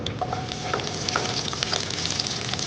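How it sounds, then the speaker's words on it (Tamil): Fennel seeds and green chilies sautéing in hot oil for a black chana masala curry, a fairly quiet, steady sizzle with scattered small pops and crackles, no talking. "சோம்பு வதங்கும் போது நல்ல ஃப்ளேவர் வர வரைக்கும் வதக்கணும்."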